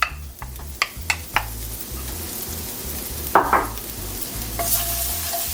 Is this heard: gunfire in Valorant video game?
no